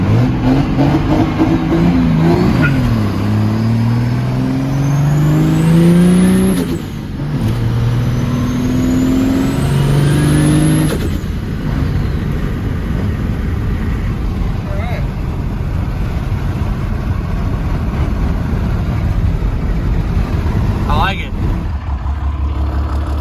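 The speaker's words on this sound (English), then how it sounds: "But it's old Cummins with a lot of mileage on it." An old, high-mileage 24-valve Cummins truck engine drones steadily while driving at about 25 to 30 mph, rising in pitch during two accelerations before settling into a constant loud rumble, with someone talking over it.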